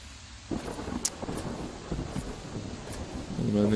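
Rain and thunderstorm ambience from Fallout 3: a steady hiss of rainfall with low rumbling thunder, moderately loud, and a brief tonal game sound near the end.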